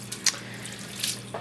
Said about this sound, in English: So the first thing I do is I soak the noodle with lukewarm water